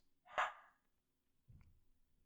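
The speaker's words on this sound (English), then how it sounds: "My dog is barking." A single dog barks once, a short sharp bark from another room, followed by a fainter muffled sound in a quiet indoor setting.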